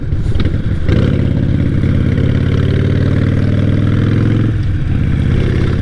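A Harley-Davidson motorcycle engine idles up close, a loud, steady, throbbing rumble with a slight clattering edge that holds for several seconds.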